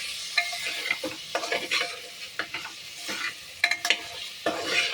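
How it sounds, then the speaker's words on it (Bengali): A spiced masala mixture being sautéed and stirred in a pan, with intermittent scraping strokes of a spoon over a steady low sizzle, close and fairly loud, no voices. "এরপর এটাকে আমি ভালো করে কষাবো"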